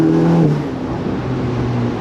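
A Ferrari Portofino M driving on a bumpy road, its engine drone loud inside the cabin, easing from a higher tone to a steady lower hum over a brief stretch, with faint thumps and no talking.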